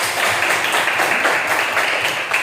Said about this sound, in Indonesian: tepuk tangan untuk Tina